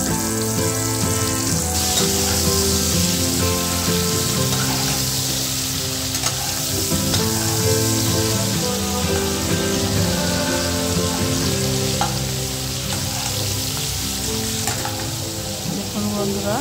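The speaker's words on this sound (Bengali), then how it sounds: "এবার কড়াইতে তেল দিয়ে চিংড়ি মাছটা হালকা করে ভেজে নেব।" Prawns fry lightly in oil in a kadai for a coconut-milk malai curry, a loud, even, rain-like sizzle running throughout beneath soft background music, with no voices.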